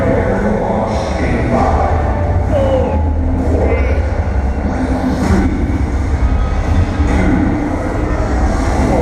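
A train rumbles and rattles steadily through a station platform, loud and continuous, with faint voices in the background.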